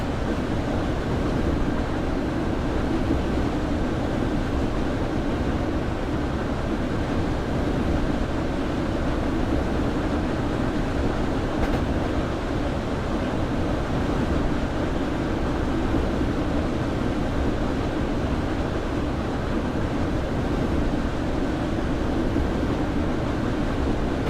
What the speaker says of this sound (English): We're just driving the BR442 Talent 2 German loco, train rather, on the Munich to Garmisch line.